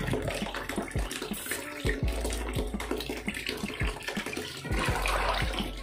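A stuffed toy is squeezed and kneaded in a basin of softener water, giving repeated splashing, sloshing and dripping that sound close and fairly loud over several seconds, with no voices.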